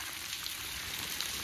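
Rain falling outside an abandoned hilltop mansion near its front and garden, a soft steady hiss with faint scattered drips, no talking.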